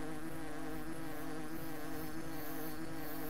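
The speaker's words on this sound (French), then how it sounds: "C'est pour ça qu'il y a des mouches." Flies buzzing in the video game Hungry Lamu make a continuous, dense insect drone that stays steady and fairly loud with no break or speech.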